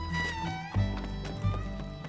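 A Tennessee Walker horse gallops in Red Dead Redemption 2, hooves clip-clopping in a steady, fast rhythm close by over continuous game music.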